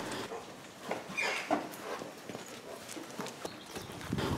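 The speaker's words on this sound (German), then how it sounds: "Unsere drei Pferde, Henry, Winnie und Flora, sind die Nacht über auf der Weide und kommen den Tag über in den Paddock." Three horses walk between pasture and paddock, their hooves clip-clopping in an uneven, moderately close rhythm against a quiet outdoor background.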